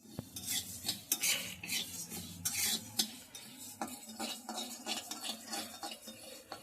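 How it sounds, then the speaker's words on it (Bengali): Coriander seeds and whole spices dry-roasting in a wok for homemade chaat masala, with a spatula scraping and stirring in busy, irregular bursts close by; no talking. "এবার আমি এগুলোকে ভাজার জন্য কড়াইয়ে দিয়ে দিলাম"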